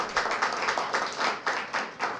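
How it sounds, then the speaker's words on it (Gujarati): An audience claps in applause following a book talk on the novel Ret Samadhi (Tomb of Sand), with steady, dense clapping swelling in rhythmic waves through the whole clip. "પરેશભાઈના વક્તવ્યથી કંઈક આપણને વિશેષ પ્રાપ્તિ થઈ હોય તો ખૂબ તાળીથી એમનું અભિવાદન કરીએ"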